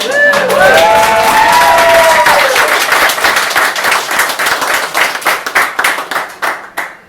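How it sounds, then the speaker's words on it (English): Audience applause at a White House reading series for a first-time guest reader, a loud burst of dense clapping with some cheering and whoops at the start, thinning into scattered claps as it fades. "you do get another round of applause"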